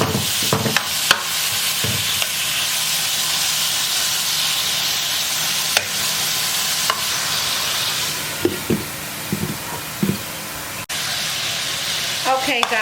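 A slab of bacon sizzles in vegetable oil, a loud continuous hiss and crackle broken by sharp clicks and knocks of utensils against the pan.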